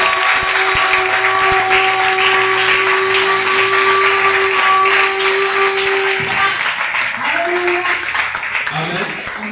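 A church congregation applauds at a Wednesday worship service, a dense, steady wash of clapping that fills the whole stretch, with a sustained tone and some voices mixed in underneath.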